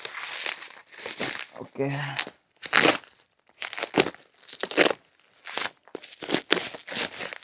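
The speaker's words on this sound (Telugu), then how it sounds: "సో ఇప్పుడు ఇది కూడా టేప్ ఉంది పైన, కట్ చేసేస్తాను." Packaging tape is cut and pulled on a Royal Canin puppy food packet, giving bursts of close, loud plastic crinkling and tearing in irregular clusters, with one short spoken word.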